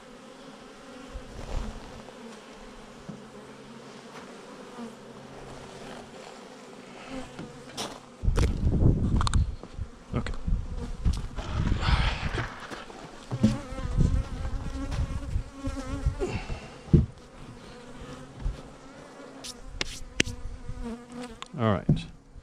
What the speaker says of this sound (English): See? A lot of bees in there, huh?